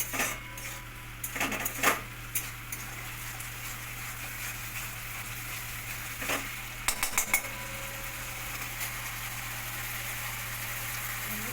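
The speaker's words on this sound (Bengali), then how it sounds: "কত সুন্দর মশলাটা কষা হয়েছে তেল ছেড়ে গেছে" Spice paste fries in oil in a pan for a vegetarian bottle gourd and coconut dish, with a steady sizzle throughout and scattered metallic clinks of a spoon stirring against the pan.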